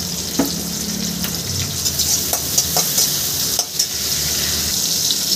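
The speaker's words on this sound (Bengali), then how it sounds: "সমস্ত কিছু আমি এবার একটু ভেজে নেব।" Green chillies and ripe tomatoes fry in a pan with a steady, close sizzle, broken by a few light stirring scrapes, and no one speaks.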